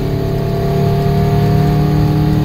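A car with a new aftermarket exhaust hums steadily while accelerating, about 80 decibels, a low, sustained drone, loud and close, with no talking over it.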